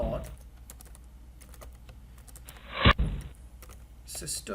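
A computer keyboard clatters with bursts of irregular keystrokes as Java code is typed, close and fairly quiet, with a brief louder thump partway through and a faint voice in the background.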